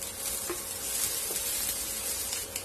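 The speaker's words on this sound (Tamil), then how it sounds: "இது ரெண்டையும் இந்த எண்ணெயில போட்டுக்கலாம்." Garlic and ginger sizzle steadily in hot oil, a bright, constant crackle close by, with faint stirring clicks.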